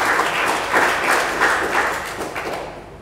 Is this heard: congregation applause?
yes